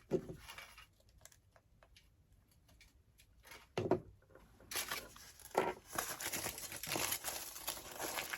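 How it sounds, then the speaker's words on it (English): Tin foil crinkled and wrapped around a silicone resin mold, starting with scattered quiet rustles and sharp crackles, then swelling into continuous loud crumpling close up, with no talking. "And wrap it in tin foil."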